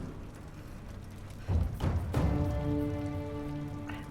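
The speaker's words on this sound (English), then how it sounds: "I guess it is raining." Steady rain patters on a surface in the video game Tomb Raider, joined by a few thuds and a tonal swell partway through. No one speaks.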